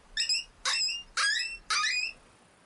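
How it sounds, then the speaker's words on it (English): Four high, thin whines from a dog in the hunting video game Way of the Hunter, each a short falling cry spaced evenly apart, clear and close against a quiet background. "And that's a dog whine."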